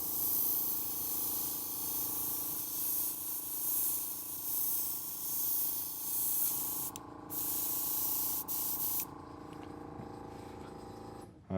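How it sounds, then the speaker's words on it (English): Airbrush spraying air over a paper doily stencil, a continuous soft hiss held steadily at close range, with a few brief breaks near the end before it cuts off. "I want the air pressure from the airbrush to hold the doily in place."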